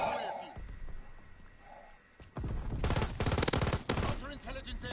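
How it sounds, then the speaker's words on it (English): Rapid automatic gunfire and explosions from Call of Duty WW2 on the Shipment map, dense bursts of shots filling the second half, following quieter game sounds and a player talking. "Had to dodge more grenades and bullets."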